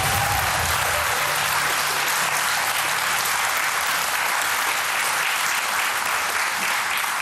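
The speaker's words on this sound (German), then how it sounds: "Applaus" Dense, sustained applause from a large audience at a quiz show, steady and loud for the whole stretch with no voices over it.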